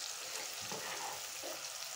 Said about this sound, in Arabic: هننزل بالبصل بتاعنا متقطع صغير.